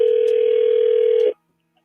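A steady telephone dial tone hums loud and continuous for over a second, then cuts off abruptly into near silence as a call is placed.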